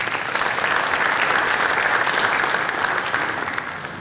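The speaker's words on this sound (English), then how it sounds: "Let's give them a round of applause." Steady, dense applause from an audience honoring teachers and coaches at a high school athletic signing ceremony, filling the space evenly for about four seconds and thinning slightly at the end.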